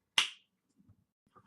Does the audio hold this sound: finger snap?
yes